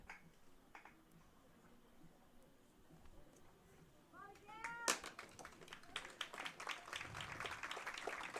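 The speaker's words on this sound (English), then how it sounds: "Hear applause from the stadium as she is helped off" Crowd at a girls' varsity lacrosse game applauding as an injured player is helped off the field, scattered claps swelling into sustained applause in the second half, with voices and a whistle-like tone earlier.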